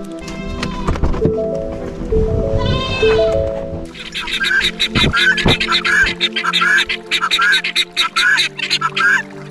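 Goat bleating on a mountain farm, with a few loud, close, wavering bleats at the start, followed by a fast, steady run of rhythmic clopping or tapping that goes on to the end.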